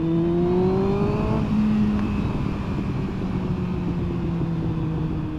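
A Yamaha R1 project motorcycle with freshly cleaned carburetors is ridden out. Its engine rises in pitch, drops at a gear change, then drones steadily under constant wind rush.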